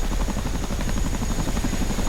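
An AH-64 Apache helicopter in the DCS flight simulator, its rotor thudding in a fast, steady beat beneath a constant turbine whine, loud and close for the entire stretch.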